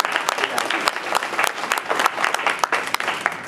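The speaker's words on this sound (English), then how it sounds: "Let's give a round of applause to all of you too." Enthusiastic clapping from a sizable crowd, dense and steady throughout, with sharp individual claps popping out of the wash.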